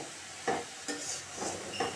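Fried potato pieces tipped into a pan for a vegetarian banana-blossom curry with coconut, giving a few soft stirring scrapes and thuds over a faint sizzle, with no talk.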